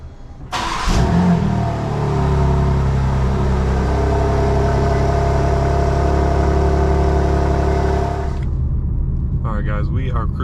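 A 2024 BMW M2 engine starts by remote start with a sharp catch, then holds a loud, steady rev and cuts off near the end, heard up close.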